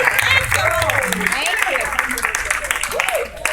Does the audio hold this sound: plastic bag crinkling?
no